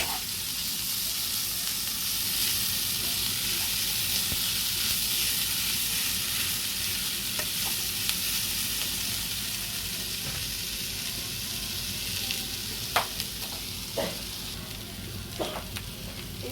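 Masala powder and onions sizzle steadily in hot oil for a shark fish curry, a constant close frying hiss with occasional sharper crackles and spoon stirs near the end.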